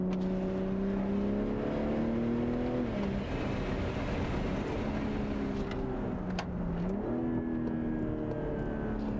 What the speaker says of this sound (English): Got a couple pops and cracks on the overrun.